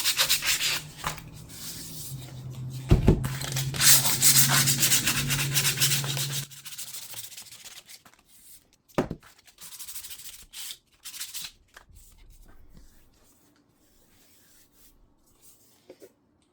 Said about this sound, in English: just get some sandpaper and lightly scuff it